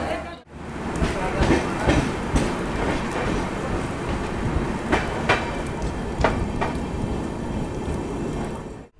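Garib Rath Express train pulling out of Jalandhar City junction in the rain, a steady rumble of rolling coaches with scattered rail clanks and knocks throughout, close and continuous.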